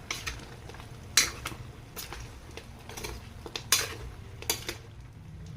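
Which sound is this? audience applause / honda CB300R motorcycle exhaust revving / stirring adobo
stirring adobo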